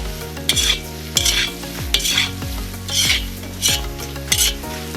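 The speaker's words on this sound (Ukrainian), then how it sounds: "Гарно примішую." Sliced potatoes sizzling in a hot frying pan while a utensil scrapes and stirs in repeated strokes, roughly one every second, with no talking.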